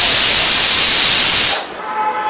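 A pressure cooker cooking spinach and onion lets out a loud, sustained steam hiss for about a second and a half, then cuts off abruptly. A faint kitchen background remains afterward.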